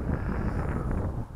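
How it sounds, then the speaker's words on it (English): A mild outdoor breeze buffeting the microphone, producing a continuous loud low rumble of wind noise throughout. "it should take off in this very mild breeze that we're having here"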